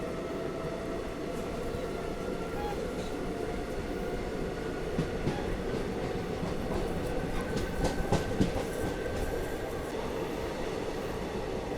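A passenger special train rolls along an Indian railway loop line with a steady, dense rumble and rhythmic wheel clatter, rising slightly in intensity midway while a few metallic clicks stand out.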